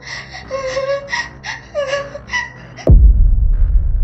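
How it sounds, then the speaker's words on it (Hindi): Soft, whimpering crying drifts in from outside a door in a Hindi horror story about a ghost child. It wavers in a series of short sobbing moans, then a deep, rumbling boom suddenly cuts in and lingers. "तभी अचानक दरवाजे के बाहर से धीरे धीरे रोने की आवाज आने लगी।"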